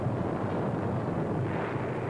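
Wartime Allied bombardment pounding enemy gun emplacements on the hills around Cassino, heard as a continuous loud, dense rumble of explosions and roaring blasts with no clear pauses.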